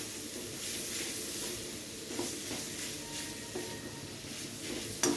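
Spice paste stirred into frying onions in a pan for a ghee roast of catla fish, a continuous close sizzle with scraping stirs and a sharp utensil clink near the end.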